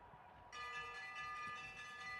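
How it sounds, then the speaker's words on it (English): A bell rings for the final lap of a bike race: a faint, sustained metallic ringing tone begins about half a second in and carries on steadily over distant background noise. "Going to hear the bell on the next lap."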